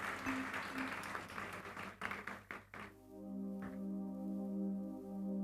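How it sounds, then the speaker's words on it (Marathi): An audience applauds a singer, a short burst of clapping that thins into a few scattered claps and stops after about three seconds, before a sustained musical tone takes over. "पुन्हा एकदा त्याच्यासाठी टाळ्या होऊन जाऊ द्या."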